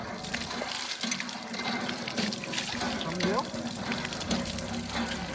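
Water gushes steadily from a hand pump outdoors, a continuous splashing stream heard up close, with voices talking over it.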